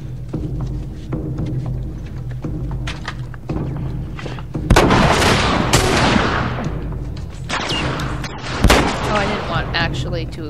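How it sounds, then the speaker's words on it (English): Game gunfire in The Last of Us, several loud bursts of shots with booming thuds, heavy in the second half, over a steady low background hum. "just shoot him"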